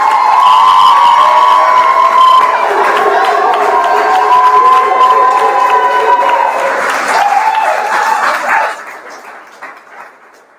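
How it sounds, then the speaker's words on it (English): Loud applause at a graduation ceremony mixes with sustained cheering, whooping and drawn-out shouts from a large crowd, then thins into scattered claps near the end. "let's give a round of applause"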